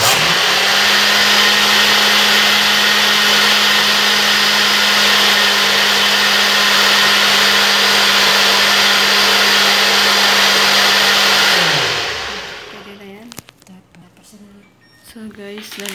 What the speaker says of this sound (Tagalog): lahat ng sangkap i-blender na natin